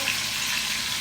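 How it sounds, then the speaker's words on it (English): A brief burst of steady sizzling as a pork loin sears in a pan, close and constant with no voices. "I'm gonna let a good sear on that side"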